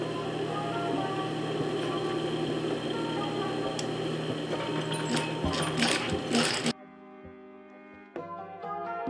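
Sewing machine stitching the lining and zipper seam of a girl's empire-waist dress, a loud steady motor whir running for about seven seconds, then a quiet pause and a short second burst.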